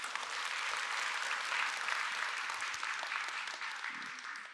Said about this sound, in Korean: 서로에게 격려의 박수를 한번 보내주겠습니다